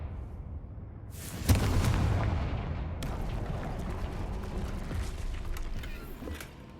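A Confringo blasting spell detonates in Hogwarts Legacy amid troll-wrecked debris, a loud sudden boom with a dense rumbling roar that lingers and crackles for several seconds before tapering off.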